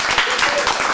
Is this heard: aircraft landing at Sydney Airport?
no